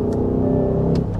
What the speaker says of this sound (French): là on est sur un noble moteur V8 biturbo 507 chevaux